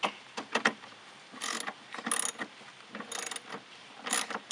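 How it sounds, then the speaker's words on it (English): A hand ratchet tightens the bolts on a Bushwacker flat fender flare, short bursts of rapid clicking strokes separated by pauses, close and clear with no talking. "we can now tighten down the bolts"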